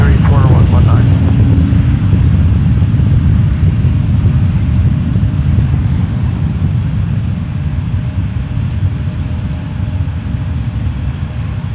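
A Porter Embraer E195-E2 jet at Toronto Pearson Airport: a loud, steady engine roar with wind buffeting the microphone, gradually easing slightly over time, while someone talks over it.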